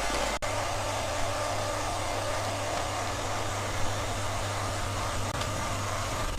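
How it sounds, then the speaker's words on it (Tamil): Electric hand mixer whipping two cups of cream for a white forest cake, a steady loud whirring drone that holds evenly throughout after a brief click at the start, with no talking. "இப்போ நம்ம வந்து க்ரீமை பீட் பண்ணி எடுத்துடலாம்"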